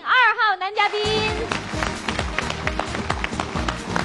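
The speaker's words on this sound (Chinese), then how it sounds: "掌声有请二号男嘉宾" Studio audience at a Beijing TV dating show clapping to welcome a male guest, brisk dense applause that starts after a short burst of music and voice and continues to the end.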